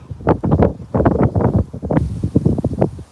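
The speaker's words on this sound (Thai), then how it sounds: "ดูค่ะ ลม ต้องขอโทษด้วยนะคะ" Wind buffets a microphone outdoors on an afternoon livestream, producing heavy, gusty low rumbles in uneven bursts that swell and drop, loud and close throughout.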